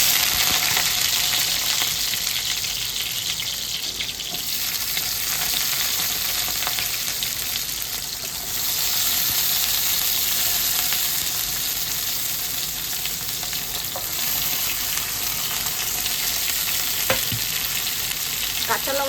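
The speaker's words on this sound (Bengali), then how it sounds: "কাঁচা লঙ্কাটা আমি একটু পরে দিচ্ছি, এইগুলো একটু হালকা ভেজে নিই।" Onion, ginger, bay leaf, whole garam masala and garlic fry in hot oil with a steady, crackling sizzle, occasional stirring scrapes and a faint clink, heard alone and close.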